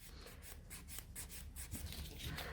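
Gel overlay nail buffed and filed into shape, quick rhythmic rasping strokes of the file, close but faint, with no talking.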